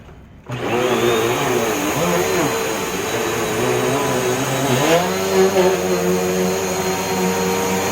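An Allergy S20EZM upright vacuum cleaner with HEPA filter whirs up loudly and runs steadily nearby, its pitch shifting slightly as it's pushed, with a constant high whine.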